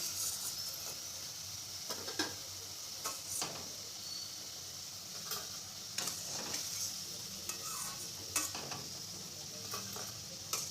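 Bottle gourd (lauki) koftas frying in oil, a soft steady sizzle under repeated scraping and stirring clatters of a utensil in the pan, fairly faint and without talk.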